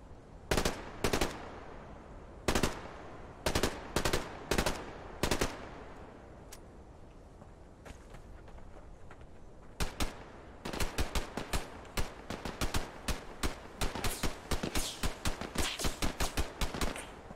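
Uzi submachine gun fire in the video game Fear the Wolves, short rapid bursts with a pause in the middle, then longer rattling volleys, moderately loud with no talking.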